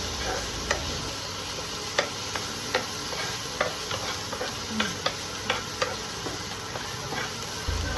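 Turmeric powder being mixed into a curd curry in a pan, with a spoon tapping and scraping in a steady, regular rhythm of light clicks over a soft sizzle, close by.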